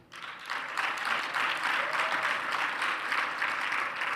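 Audience clapping at a youth-led dialogue panel swells in quickly after a quiet start, then holds as a dense, lively burst of many hands for the rest of the moment.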